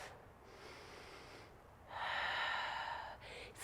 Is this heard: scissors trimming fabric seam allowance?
no